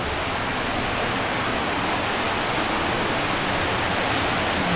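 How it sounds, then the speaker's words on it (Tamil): Steady, dense rushing water from a small waterfall inside Niagara Cave roars without a break, a loud continuous splashing wash filling the space with no voices. "இது ஒரு குட்டி ஃபால்ஸுங்க."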